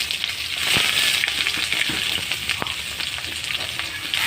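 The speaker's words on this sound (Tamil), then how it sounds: "வெங்காயம் கட் பண்ணி வச்ச வெங்காயத்தை போட்டு வதக்கணும்" Chopped onions sautéing in a pan, a dense close sizzle with a few sharp stirring knocks and scrapes, heard alone without speech.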